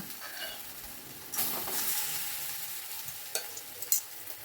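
Ground chickpea paste hits hot mustard oil with cumin seeds in a pan, a sudden burst of sizzling that settles into a steady hiss, with a few faint clinks of a spoon stirring near the end.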